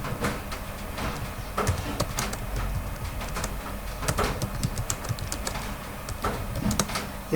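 Rapid clicks of keys on a computer keyboard as text is typed, irregular taps close by over a faint steady hum.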